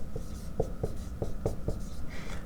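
A marker or pen writing out chemistry half reactions on a board makes a close series of short, crisp strokes and taps in an uneven rhythm, heard alone without talk.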